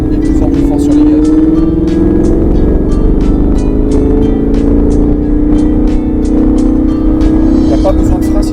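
A car accelerates on a race circuit with a steady, droning engine note that climbs gradually in pitch, heard from inside the car, with a voice talking over it.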